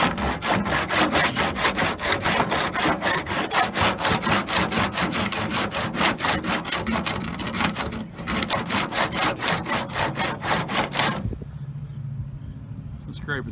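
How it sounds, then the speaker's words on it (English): A paint scraper rasps old paint off the wooden trim of an old grocery storefront in downtown Jefferson, SC, in fast rhythmic strokes up close, stopping near the end before a quieter stretch. "Scraping some of this old paint off, and then we're going to put some new paint on it."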